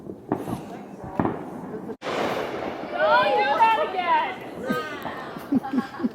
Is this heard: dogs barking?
no